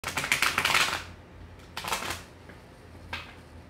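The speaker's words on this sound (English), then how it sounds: "If I could shuffle the cards today." Tarot cards being shuffled in several quick riffling bursts, close and crisp, with short quiet pauses between them.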